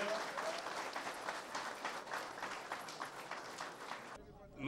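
A crowd at a public gathering breaks into sustained applause, dense rapid clapping at moderate distance that carries on steadily for about four seconds before cutting off abruptly.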